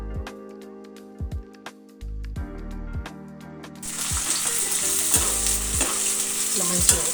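Cumin and coriander seeds are roasted in a kadai for ridge gourd chutney: sharp clinks and taps of a ladle against the metal come first, then a dense crackling sizzle with scraping stirs takes over.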